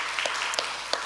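A church congregation at a Sunday service claps briefly, a soft scattered patter of hands with a few distinct sharper claps, fairly faint and with no voices over it.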